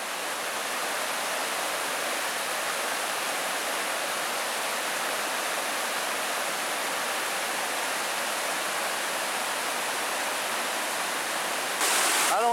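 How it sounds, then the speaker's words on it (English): A mountain cascade waterfall in the Glacier National Park backcountry near Bowman Lake gives a steady, full broadband roar that stays constant and fairly close throughout, with a brief louder rush at the very end. "there's a nice cascade back there"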